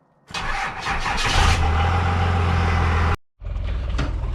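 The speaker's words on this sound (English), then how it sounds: "Getting ready to let the truck warm up, hit the road" A truck engine cranks and catches, then settles into a loud, steady idle as it warms up, cutting off briefly before running again, close by with no talk, on a farm before hauling scrap metal.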